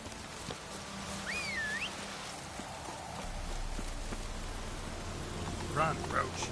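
Roach the horse gallops through the war-torn Velen countryside in The Witcher 3, her hooves a steady rhythmic clip-clop over soft ground beneath ambient rain-like noise and brief bird calls, moderately close.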